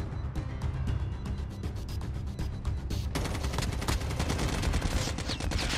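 M4 rifle fire in COD Mobile, rapid continuous bursts of close, loud shots rattling for several seconds with a short pause before the firing resumes even denser.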